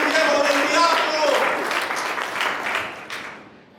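A church congregation applauds during a Spanish-language sermon, a dense wash of clapping that starts loud, then thins and fades over a few seconds, with a voice speaking over the start.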